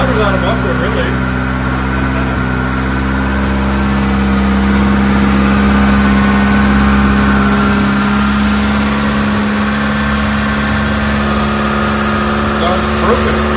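A Mitsubishi 4G92 engine in a Mirage Cyborg RS idles loudly and steadily with no muffler, a constant close-up drone with a slight rev, while people talk over it.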